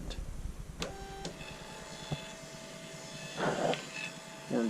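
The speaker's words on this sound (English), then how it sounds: "The Dymo printer has 16 labels. Get ready" A Dymo label printer runs labels with a motorised whirring and feeding hum, punctuated by sharp clicks and short buzzing bursts, close by and without talk.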